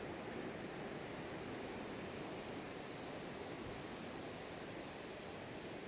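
Ocean surf washes steadily onto a shoreline where sea meets land, a dense, continuous roar of breaking waves with no voices.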